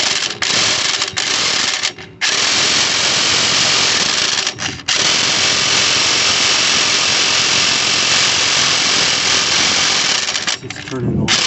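A power tool spins the engine bolt and turns the whole motor of a 1992 Suzuki Every turbo AX4, making a loud, steady whirring rattle that runs almost the entire time with brief pauses near the start and middle.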